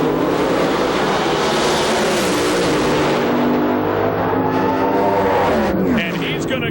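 Alcohol funny cars and pro stock drag cars roar at an IHRA national event in Rocky Mountain, a loud continuous engine blast that fades slightly as they run, with announcer talk over it.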